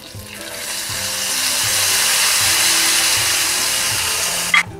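Curry leaves and a single dried red chili hit hot oil for a buttermilk kuzhambu tempering, giving a loud, steady hiss of sizzling that rises slightly and holds, ending with a brief clatter.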